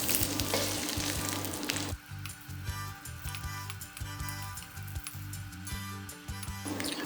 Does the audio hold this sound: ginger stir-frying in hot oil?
yes